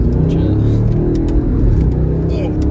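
Straight-piped twin-turbo V8 BMW, tuned to about 600 hp, accelerating hard on the road, heard from inside as a loud, continuous low rumble with a rising engine note throughout.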